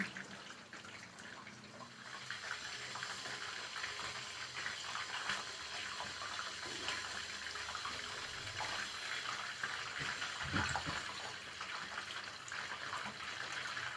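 Stuffed chicken frying in hot oil gives a continuous, dense, bubbling sizzle that holds steady throughout. It is close and moderately quiet, with no one speaking.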